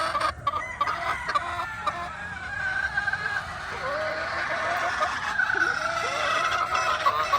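Yellow-legged hatch gamefowl clucking at close range, repeated short squawks and clucks over a low background murmur.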